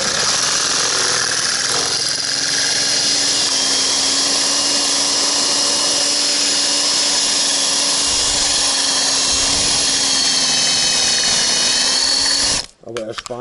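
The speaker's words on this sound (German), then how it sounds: "der Bohrer bohrt auch sehr gut" A power drill runs continuously for about twelve seconds, a loud, steady high whine with a slightly wavering tone, then stops abruptly and is followed by brief clattering; voices can be heard over it.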